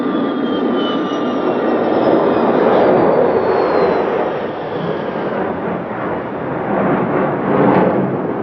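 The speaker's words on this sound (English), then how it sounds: "The Tu-144 made 3 passes over the airfield." Tupolev Tu-144 supersonic jet airliner passing over an airfield: a loud, broad jet roar with a falling whine, swelling and easing over several seconds as it sweeps past.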